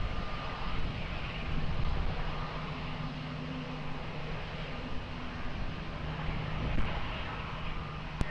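Airliner jet engine at Lisbon Airport, a steady broad roar with a low hum, fairly constant throughout without any talk.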